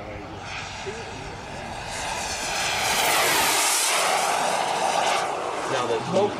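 A turbine-powered model jet with an onboard smoke system roars past low and fast at a radio-control flying event, its whine swelling and sweeping by under a commentator's voice.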